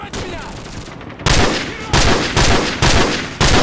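Gunfire in Call of Duty 4: Modern Warfare, the mission Heat, loud close bursts in a rapid staccato rhythm, four or five sharp volleys after a quieter opening stretch.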